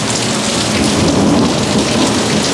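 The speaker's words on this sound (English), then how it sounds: "I don't care about the thunder." Thunder rumbles low and continuous under a loud, dense downpour of rain during a storm, the steady hiss of drops filling the whole stretch with no voices.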